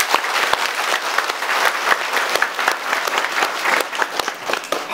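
A church congregation at a Hmong parish gives a bishop a big round of applause, a dense, steady burst of many hands clapping close by, with scattered sharper claps throughout.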